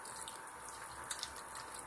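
Hot water is poured into a pot of mutton biryani, a quiet, steady trickling stream with a couple of faint splashes, no voices present.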